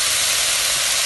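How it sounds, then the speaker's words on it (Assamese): Water poured into a hot pan for an Assamese fish-head curry with radish flowers, a loud continuous sizzling hiss that fills the moment without any talk. "এতিয়া অলপ পানী দিম"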